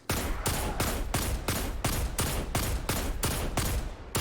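A 180 RPM weapon in Destiny 2 fires at enemies, about a dozen loud, evenly spaced shots at a steady rhythm roughly three per second, each sharp crack followed by a short tail, close and dominant.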